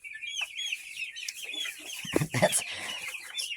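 Barred Rock chickens clucking in a coop, a run of soft overlapping clucks and calls with a few louder scratchy bursts, close by.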